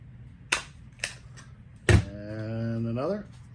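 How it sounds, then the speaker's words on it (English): A stapler punches through a paper cup and a straw while an anemometer is being built. It makes three sharp, close snaps, the last one the loudest, and a voice starts speaking right after. "want your staple to go through the cup and the straw"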